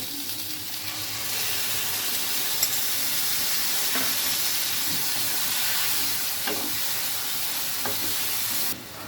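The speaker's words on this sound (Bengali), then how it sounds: "এবার আমরা আগে থেকে যে মশলাটা গুলিয়ে রেখেছিলাম সেটা দিয়ে দিব।" Steady hissing sizzle of spice paste in a frying pan that continues throughout, with occasional faint clicks of a utensil.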